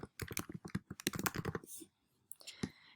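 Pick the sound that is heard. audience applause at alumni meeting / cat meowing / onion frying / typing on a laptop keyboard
typing on a laptop keyboard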